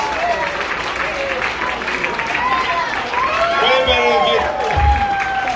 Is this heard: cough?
no